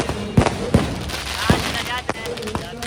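Several sharp firecracker bangs go off one after another at irregular intervals at a village fair, loud and close, with a faint crackle and background noise between bursts.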